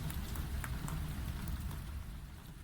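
Steady rain falling at night in a visual novel scene, a constant soft hiss with faint scattered drops, evenly loud throughout with no voices.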